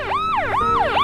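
Ambulance siren wailing in loud, close rising-and-falling sweeps, about two full cycles heard clearly with nothing else around it.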